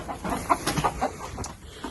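Chickens clucking in short, irregular bursts, fairly close, with soft outdoor background noise and no talking.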